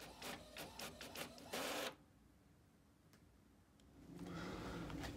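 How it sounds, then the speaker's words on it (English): A label printer running a short print job: a rapid series of mechanical clicks and whirring feed strokes ending in a louder burst, a quiet pause with a single tick, then a low motor hum, close up and with no voices. "I just need to turn on my printer, and I'll get these printed"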